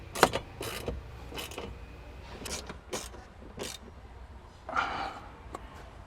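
A socket wrench tightening shelf bolts inside a Toyota LandCruiser LC200, a series of short, faint ratcheting clicks in bursts every half second or so, with a brief scraping rattle near the end.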